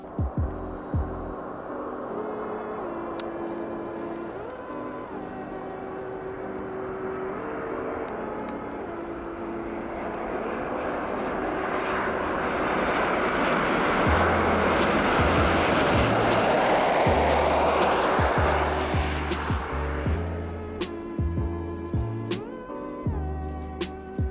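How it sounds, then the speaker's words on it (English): A charter Boeing 737-800 jet comes in to land, its engine roar building steadily from a distant rumble to a loud, broad whoosh as it passes closest, then easing away. "we were particularly looking for this charter Boeing 737-800 coming in here"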